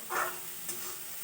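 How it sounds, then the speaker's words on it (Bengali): Onion and garlic being stirred and fried in a pan for a crab curry, a brief soft sizzle with a spatula scrape near the start and a faint second stroke, quiet and close. "আর একটু সময় নাড়াচাড়া করে কষিয়ে নেবো পেঁয়াজ রসুনটা"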